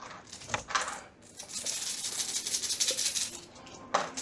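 Dice clatter on a table during a tabletop game: a couple of short rattling bursts, then a longer tumbling roll, and a final quick clack.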